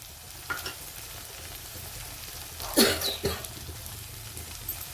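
Turmeric, salt and coriander are added to a sizzling pan for upma, giving a steady low frying hiss with a couple of brief scraping stirs and a short cough-like burst near the middle.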